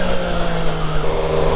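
Triumph Speed Triple motorcycle engine running at a steady idle, a close, loud, even droning hum with a low throbbing note throughout and no voices.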